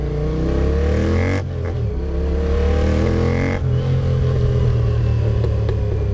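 Honda CX 500 cafe racer motorcycle riding on the road, a loud close engine drone revving up and down through gear changes with a steady rough mechanical rumble.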